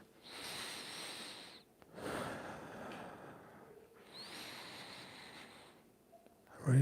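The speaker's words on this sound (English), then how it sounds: "Learn to breathe in and out." Slow, deep breaths in and out, close and airy, with a few long inhale and exhale cycles and a sharper intake at the end.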